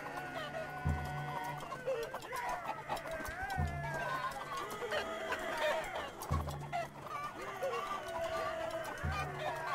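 Chicken Man units in Totally Accurate Battle Simulator clucking and squawking busily throughout, with chaotic battle clatter and regular dull thuds, while someone talks over the noise.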